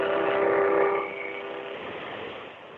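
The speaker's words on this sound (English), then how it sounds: "what makes it different from other harmonicas is that it's really low tuned." A deep, low-tuned harmonica, a pulmonary harmonica, sounds a loud chord for about a second, then softens into a breathy, sustained tone that fades.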